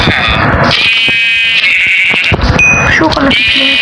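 Sheep bleating in Dirt Craft, a Minecraft-style game server, with several drawn-out wavering bleats over loud, steady talk.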